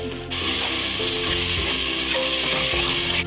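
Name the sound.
tomatoes and green chillies frying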